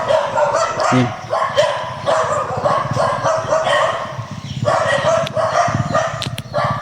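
A dog barks repeatedly in loud, close yaps and woofs in an irregular rhythm, with whimpery notes mixed in, while people talk over it outdoors.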